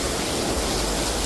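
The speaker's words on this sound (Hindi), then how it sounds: "बारिश आ गई है तो इतनी जोर की" Heavy rain pours down hard at a family home, a loud, unbroken roaring hiss of water filling the whole clip with no voices.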